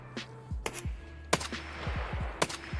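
Gunfire in the shooter game Escape From Tarkov: several sharp, separate gunshots over about three seconds, with a faint mechanical background.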